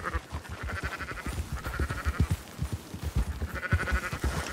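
A flock of sheep bleats repeatedly in Red Dead Redemption 2, overlapping wavering baas rising every second or so over soft hoof shuffling, close and fairly loud.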